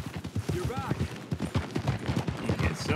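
Horse hooves clip-clop in a steady rhythm in Red Dead Redemption 2, close and continuous under someone talking.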